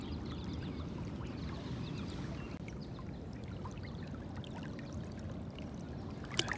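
Legs wading through a shallow rocky Michigan river, a steady near splashing and rushing of moving water with faint trickles throughout and a couple of sharper splashes at the end.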